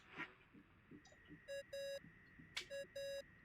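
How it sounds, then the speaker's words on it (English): A phone ringing tone in the video game Genshin Impact: two bursts of a steady electronic ring pattern, each a short tone followed by a longer one, over faint background sound. "I really hate that ringing tone"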